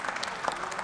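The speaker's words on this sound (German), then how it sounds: "ungewohnter Applaus von der linken Seite" Applause breaks out in a German parliamentary chamber from the left-side benches, a steady dense patter of many hands clapping throughout, fairly close and without talk.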